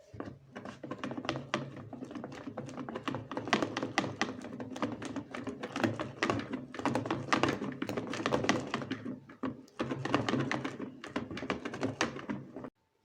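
Homemade gel detergent made from local soap is stirred with plain tap water. A steady, fast run of clicking, knocking taps repeats for several seconds, close by and fairly loud, then stops abruptly.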